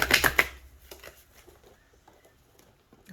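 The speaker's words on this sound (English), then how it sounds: "let's give this one more shuffle because so many of them fell out" A deck of oracle cards is shuffled, a quick burst of crisp riffling flicks at the start that fades into faint scattered shuffling and light card handling.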